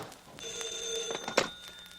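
A private telephone ringing in an office, a single bright bell-like ring close by, with soft knocks and handling sounds around it.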